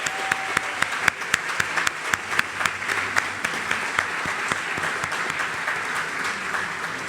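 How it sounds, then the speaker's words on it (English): An audience at the St. Louis Media History Hall of Fame induction ceremony claps for the evening's inductees. The applause is loud, sustained and dense, with sharp individual claps throughout and no voices over it. "let's have one more round of applause for all of tonight's inductees"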